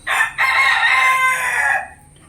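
A rooster crows once, loud and close, a drawn-out cock-a-doodle-doo with a short opening note and then a long sustained call that fades out at the end.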